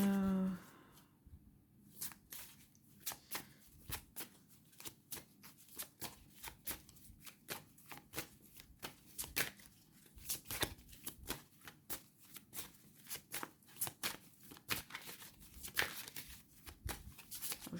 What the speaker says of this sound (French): mélange bien parce que du coup, les cartes, elles étaient toutes en ordre